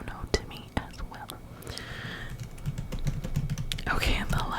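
Close, crisp clicking of fingers typing on a computer keyboard, irregular taps and short flurries under soft whispering in a quiet room.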